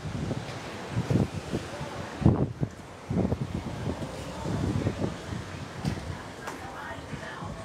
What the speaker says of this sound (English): the wind almost took me down